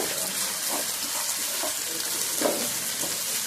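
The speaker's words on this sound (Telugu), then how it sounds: "ఇప్పుడు మూత తీసి కలుపుకోవాలండి" Tomatoes fry in a pan with a steady sizzle, with soft stirring scrapes and clinks every so often, close by and fairly quiet throughout.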